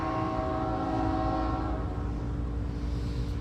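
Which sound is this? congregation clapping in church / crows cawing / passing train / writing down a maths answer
passing train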